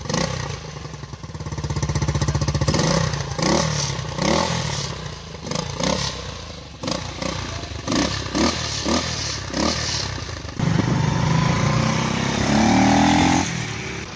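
A United 125cc motorcycle engine with an aftermarket exhaust idles with a loud, throaty note, then revs in repeated blips and settles into higher sustained revs, close to the listener.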